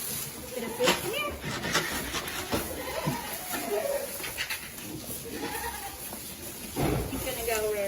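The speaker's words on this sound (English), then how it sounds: "we're in with the pygmy goats" Several pygmy goats bleat repeatedly in a farm pen, near and loud, overlapping one another in irregular bursts while people talk quietly in the background.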